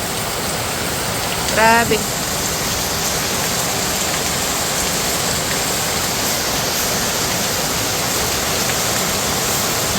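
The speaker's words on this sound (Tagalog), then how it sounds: "Lakas po ng ulan" Heavy morning rain in the Philippines pours down in a dense, even hiss that stays loud and unbroken throughout, and a brief exclamation from a voice cuts in near the start.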